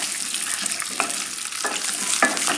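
Baby peppers sizzle in a pan over a high flame, a continuous close frying hiss broken by a few sharper bursts as they are stirred or tossed.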